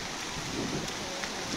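Heavy rain in Sylhet, Bangladesh, a dense, even wash of falling water with no pauses through the brief stretch, steady and fairly loud.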